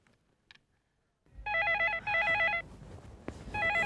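A telephone rings late at night in a Hindi TV serial drama, sounding as a series of bright warbling electronic trills in separate bursts after a short quiet start, close and clear.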